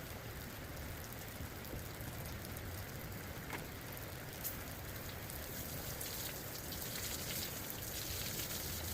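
Steady splashing and trickling water throughout as slaughtered chickens are rinsed in water buckets, continuous and fairly close with a few brief brighter splashes, no talking.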